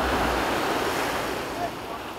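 Ocean waves surging while surfing, a broad continuous roar of surf with heavy wind rush against the microphone, loud and close throughout.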